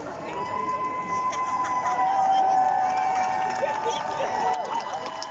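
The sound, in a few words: crowd cheering at a rally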